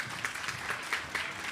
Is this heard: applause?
yes